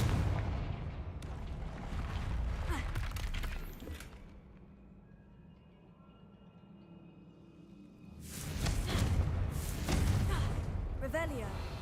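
Confringo explosion spells blast in a Harry Potter video game, loud bursts and crashing debris at the start and again near the end, separated by a quieter lull, with a voice speaking.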